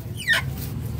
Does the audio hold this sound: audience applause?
no